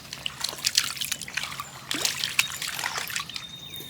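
A dog splashes and sloshes through water on a hot-day walk, with irregular trickling, dripping and splattering bursts close by and no talk over them.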